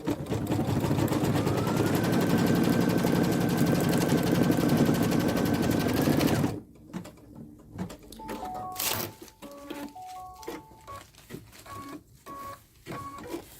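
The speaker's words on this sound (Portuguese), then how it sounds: "a máquina vai fazer a marcação de onde eu vou posicionar a aba do meu chapéu" An embroidery machine stitches a white-thread placement mark onto a hat with a loud, steady mechanical whir for about six seconds, then stops abruptly, leaving soft clicks and a few short electronic beeps.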